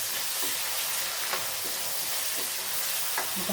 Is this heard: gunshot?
no